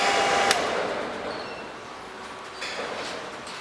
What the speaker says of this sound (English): let's just go ahead and turn off our super high dollar blower motor here